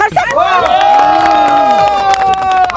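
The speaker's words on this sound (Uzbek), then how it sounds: "Qani, qarsak." Cheering and shouting from a crowd of people, including children, hailing a district governor, a continuous excited roar of many voices with some clapping mixed in.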